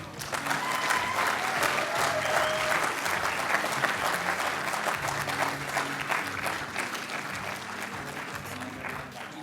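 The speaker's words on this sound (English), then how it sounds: "I want to give you guys a round of applause for being here" Conference audience at an emergency medicine pharmacotherapy and resuscitation meeting giving a round of applause, a full sustained clapping from many people that gradually thins toward the end, with faint voices mixed in.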